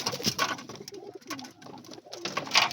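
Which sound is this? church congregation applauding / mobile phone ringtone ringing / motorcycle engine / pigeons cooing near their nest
pigeons cooing near their nest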